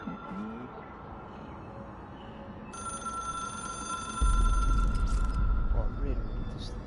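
An old-style telephone bell rings in a moody office setting in the game Control, a bright repeating trill that swells partway through over a low droning background and a voice speaking.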